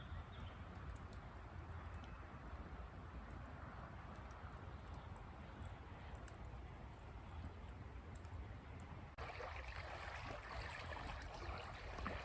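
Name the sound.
water lapping against the shoreline of a lake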